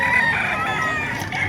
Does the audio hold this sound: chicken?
yes